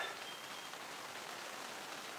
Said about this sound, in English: Yeah, it's starting to rain again.